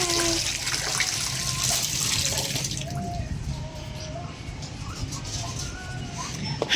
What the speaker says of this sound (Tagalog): Hugasan ko po.